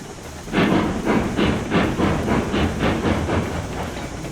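Steam locomotive in the train game Railroads Online rolling along with a steady rhythmic chuffing and clatter, about eight evenly spaced beats, close and fairly loud, with no talk over it.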